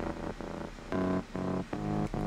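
A dry bass sample with no FabFilter Pro R reverb plays a short rhythmic pattern of about six sustained, buzzy low notes with brief gaps, loud and alone.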